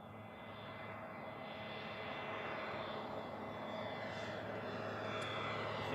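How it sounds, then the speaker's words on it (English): Steady broadband rumble of an approaching Boeing 717 airliner inbound from Maui at Honolulu, a continuous engine roar that builds gradually as it nears, with no voices. "the next one's another 717. This one's coming in from Maui"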